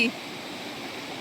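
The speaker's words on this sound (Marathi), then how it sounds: "ही पहा आमची नदी" Steady broadband rush of a river at Shirgaon, Khed, flowing over smooth stones, continuous and fairly close, with a brief brighter sound at the very start.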